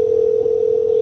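A steady, loud telephone dial tone holds at one pitch without a break while a call is placed back.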